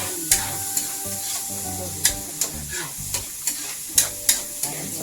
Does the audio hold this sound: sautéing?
yes